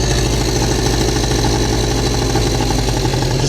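A scooter engine with a freshly repaired electric starter idles high with the choke off, a loud, steady mechanical drone that runs evenly throughout with no voices.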